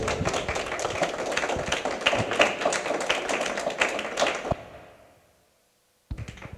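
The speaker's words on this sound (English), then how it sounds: "Yes, you may clap now." An audience at a Saint Boniface Haiti Foundation talk bursts into applause, a dense wash of many hands clapping that fades out, falls silent, then returns briefly at the end.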